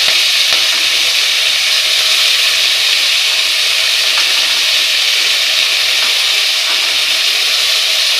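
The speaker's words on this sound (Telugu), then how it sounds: "ఇది పచ్చివాసన పోయేంత వరకు కూడా వేపాలండి" Fresh native fenugreek leaves frying in a pan for methi matar pulav, a loud, steady hissing sizzle that carries on without a break and with no voices.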